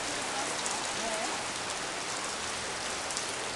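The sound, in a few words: fairly heavy rain falling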